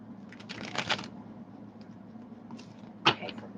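A tarot card deck is shuffled in quiet short bursts, a riffle of papery flutters followed by a sharper snap of cards near the end, over low room hiss.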